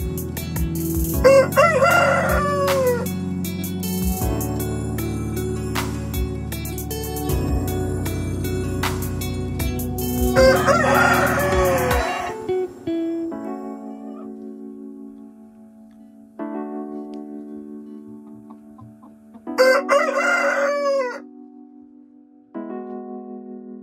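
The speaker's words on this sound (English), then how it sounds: "Folks, we have more than one rooster." Several roosters in a chicken coop crow loudly and close by, one after another. Their calls are separated by quieter gaps, with a faint steady ticking in the background.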